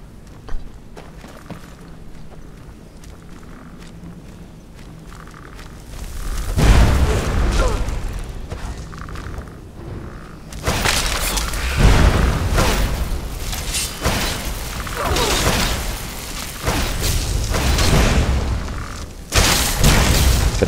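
Repeated area-damage spell explosions in Skyrim, loud booming bursts with low rumble, starting after a quieter stretch of faint clatter and continuing in heavy overlapping waves.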